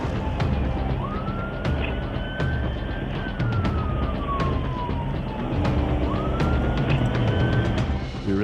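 A police siren wails up and down nearby over a rumbling engine and road noise, with sharp clicks punctuating the steady drive.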